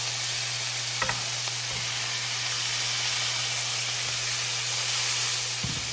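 Smash burger patties on a hot griddle give off a steady, close broadband sizzle and hiss that stays even throughout, with a few faint scraping clicks and a low hum underneath.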